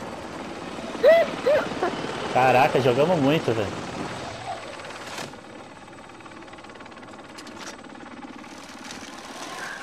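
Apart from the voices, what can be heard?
helicopter in the video game Call of Duty: Modern Warfare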